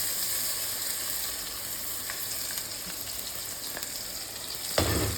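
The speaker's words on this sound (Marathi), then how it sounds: "हिंग घातल्यानंतर एक मध्यम आकाराचा कांदा चिरून घाला" Chopped medium onion frying with asafoetida and curry leaves in a hot pan for dal bhaji, a steady close sizzle throughout with a few faint stirring clinks and a brief scrape near the end.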